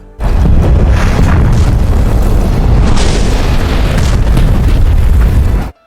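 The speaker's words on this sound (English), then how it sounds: "Just after they got out, Roderick, another survivor, detonated a set of explosives." A set of explosives detonates in a zombie-overrun camp, a loud, sustained roaring blast that holds for several seconds before cutting off abruptly, with no voices.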